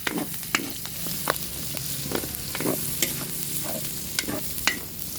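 Onion and garlic stir-fry in hot oil for pancit bihon, with a constant close sizzle punctuated by repeated sharp scraping knocks of the spatula against the pan.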